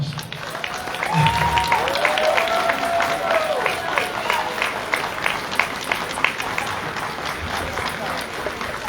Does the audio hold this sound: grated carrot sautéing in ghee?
no